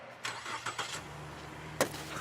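A car's engine is started during a getaway, with a few short cranking bursts followed by a low, steady idle, heard at moderate distance and fairly quiet.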